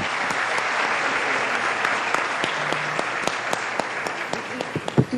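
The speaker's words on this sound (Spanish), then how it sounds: "Eso merece un aplauso" An audience claps steadily through a panel discussion on circular and sustainable tourism, a dense continuous patter of many hands that thins toward the end with a few louder individual claps.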